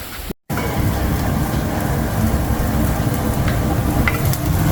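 Onions fry in a hot pan in a home kitchen, a steady, close hiss and crackle of sizzling that runs without a break apart from one brief dropout near the start.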